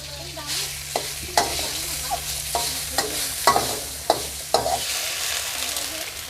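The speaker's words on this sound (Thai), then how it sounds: "เจียวกระเทียมให้หอมเสร็จแล้วเราก็ผัดหมูนะฮะ" Pork sizzles steadily in a hot pan while a utensil scrapes and clacks against it in repeated stir-frying strokes, close by.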